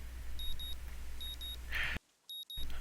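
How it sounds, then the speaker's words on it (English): Alarm clock in the visual novel game Katawa Shoujo beeping in paired electronic tones, repeating at a steady rhythm over a faint background hum, with a brief dropout near the end. "The sound of my alarm brings me out of a dream"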